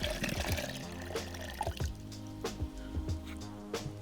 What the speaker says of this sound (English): you take your strainer and you strain it into the other pitcher